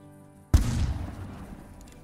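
A single sharp rifle shot fired at a mule deer buck during a hunt, one sudden loud crack followed by a rolling boom that decays over about a second and a half.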